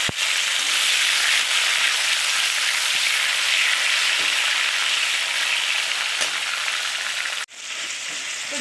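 Chopped tomato sizzles and fries steadily in a hot pan with cardamom, nigella seeds and salt, a loud, continuous broadband crackle that cuts off abruptly near the end and then resumes more quietly.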